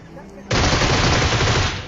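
Gunfire in the battle game PUBG Mobile at Georgopol, a sudden loud burst of sustained rapid shots starting after a quiet moment and continuing close up to the end.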